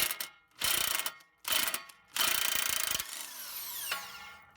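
A ratchet with an 18mm socket clicks in three quick bursts of rapid pawl ratcheting separated by short pauses, followed by a softer whirring spin, close by, while replacing a Dodge Grand Caravan CV axle.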